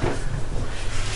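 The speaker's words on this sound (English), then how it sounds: "the door opens." Hydraulic glass elevator door opening: a short, close mechanical rumble and slide lasting about a second, low and muffled.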